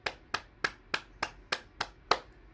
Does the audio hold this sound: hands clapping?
yes